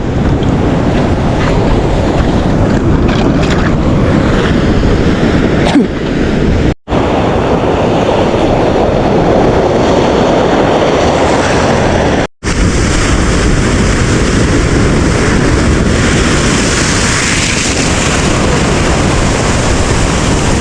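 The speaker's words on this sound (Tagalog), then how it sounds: "Lakas ng alon." Heavy ocean waves crash and churn in a continuous loud roar at a Palawan fishing spot in light drizzle, with gusting wind buffeting the microphone throughout.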